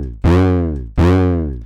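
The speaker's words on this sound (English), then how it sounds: "This is with my distortion after the EQ." Two sustained, harmonically rich vocal tones, each starting abruptly, sound gritty and buzzy from heavy distortion applied after EQ, with a bright, shaped tone.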